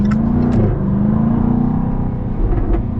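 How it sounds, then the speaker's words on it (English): A 2023 Jaguar F-Type P450 R-Dynamic revving nearby, a loud, steady engine drone with small pitch swings and a few sharp exhaust pops scattered through it. "see if I can get it to do some more pops and overdrive"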